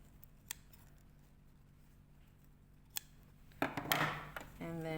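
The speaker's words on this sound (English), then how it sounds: "Trim your threads," Scissors trim sewing threads after stitching a pocket, with a few sharp isolated snips followed by a louder burst of cutting and handling noise near the end.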